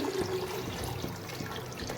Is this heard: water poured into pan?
yes